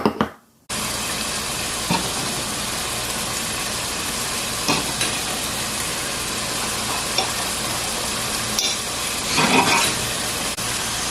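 Steady, dense sizzling of chicken frying in a pan with hot bacon grease fills the whole clip, with a few brief louder crackles and stirring noises, no talking.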